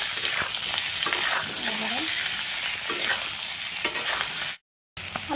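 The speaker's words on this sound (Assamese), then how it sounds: "অলপ তেলত ফ্ৰাই কৰি আলু দি আছোঁ অলপখিনি নিমখ আৰু অলপ জলকীয়া গুড়ি, কাশ্মীৰী জলকীয়া গুড়ি দি দিলোঁ" Potatoes fry in a little oil with salt and Kashmiri chilli powder while being stirred, giving a loud, constant close sizzle with scraping spoon strokes and a brief dropout near the end, no talking.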